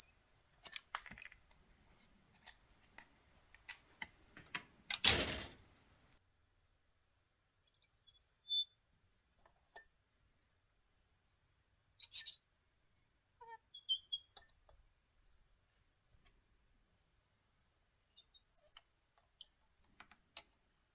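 A Jakemy ultrasonic cutter slices through the thick part of a plastic Gundam model kit runner in short, faint high-pitched buzzing bursts, scattered among quiet clicks and one loud knock.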